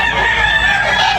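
A rooster crowing at a poultry sale, loud and close, one sustained call filling the whole short moment.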